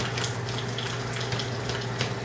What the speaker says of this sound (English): make sure my hands are kind of wet so you hear the water running in the background here